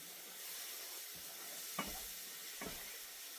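Garlic sizzling in a pan for chicken paprikash, a soft steady hiss with a couple of faint scraping stirs.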